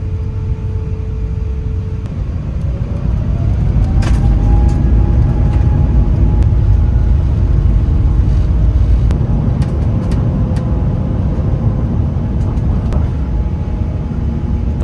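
Cabin view of a Singapore Airlines airliner on its takeoff run, with a steady, heavy engine roar and rumble that builds and then holds, plus faint rattles and clunks in the cabin and no talking.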